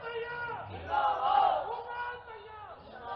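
A large crowd at an outdoor political rally roars with collective cheering and shouting. The sound swells loudest mid-clip and stays at a moderate distance.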